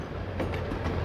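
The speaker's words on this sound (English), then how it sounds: "a Royal Mail train made its run from Glasgow to London" Royal Mail train travelling overnight from Glasgow to London, a steady rumbling roll of wheels on rails with a low, constant engine drone, close and continuous with no voices.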